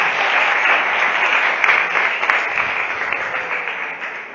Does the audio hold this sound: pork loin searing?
no